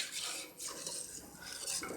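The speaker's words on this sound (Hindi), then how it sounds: "ऐसे मिक्स करती जाती हूँ, वरना अगर ये जल गई तो फिर चॉकलेट से कड़वापन आ जाएगा" A spoon stirs chocolate custard and milk in a pot over medium heat, making continuous close scraping and swishing strokes against the pot's sides and base in steady repeated sweeps, with no talking.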